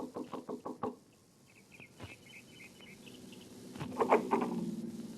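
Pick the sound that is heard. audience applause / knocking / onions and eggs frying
knocking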